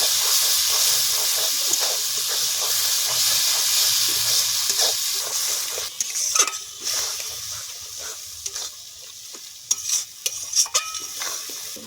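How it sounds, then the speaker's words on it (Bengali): Red chili paste sautéing in oil and water for a duck curry, giving a steady close sizzle and hiss with bubbling steam and occasional stirring clatters, no voices. "পাকা লঙ্কা বাটা, জল দেব, ভালো করে কষিয়ে নেব তেল ছাড়া অবধি।"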